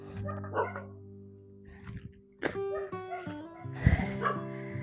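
A dog barks and yips a few times in short irregular bursts, with whimpering tones between, fairly close against a quiet background.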